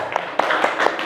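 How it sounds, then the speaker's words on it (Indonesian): Schoolchildren in a classroom clap briefly for a classmate's group, a short burst of quick, light hand claps with a few sharper individual slaps, close by and without talk. "Tepuk tangan untuk kelompoknya Suci."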